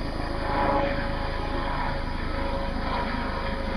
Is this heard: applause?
no